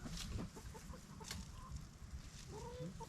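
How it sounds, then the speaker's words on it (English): A hen clucks in a backyard flock in a Florida permaculture food forest, with short, fairly close clucks scattered over steady outdoor background noise. "This is my smartest chicken"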